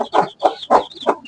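Young chicks cluck and cheep in short, close bursts while being fed, about five quick calls in a row with brief gaps between them, loud and alone with no talk.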